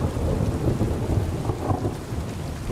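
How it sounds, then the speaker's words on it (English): Rolling thunder rumbles over heavy, steady rainfall in the medieval video game Kingdom Come Deliverance 2, a loud, continuous storm wash with deep swells of thunder and no voices. "I love the sound of thunder."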